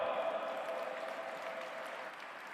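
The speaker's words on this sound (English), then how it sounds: "Please put your hands together and welcome with a round of applause" Audience applause welcoming Dr. Ganoune Diop as speaker at an interfaith summit, a steady, fairly faint wash of many hands clapping that holds evenly and eases slightly toward the end.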